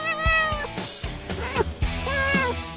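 A kitten in trouble meows repeatedly, several clear, close, drawn-out cries in a row that rise and fall in pitch.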